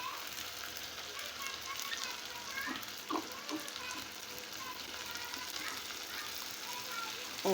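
Onions frying in a pan for an Arvi chicken curry give a constant soft sizzle under the scene, with a few faint stirring clinks scattered through.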